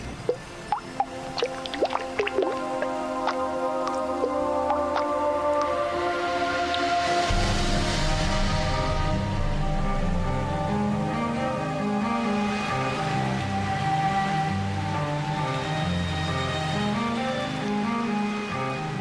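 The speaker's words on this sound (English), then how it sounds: "In November, storm clouds gather. The equator offers its greatest gift to Amazonia: rain." Heavy tropical rain pouring over the Amazon rainforest, starting as scattered drips and building into a steady, dense downpour that continues loudly to the end.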